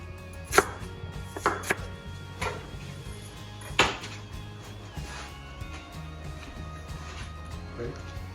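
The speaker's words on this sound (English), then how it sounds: "The circles I'm going to cut here" A knife chops taro, also called coco or bataba, into rounds on a board, with several sharp, uneven strikes standing out over low kitchen background noise.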